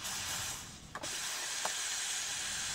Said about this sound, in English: I'm going to show you how to safely manually release pressure.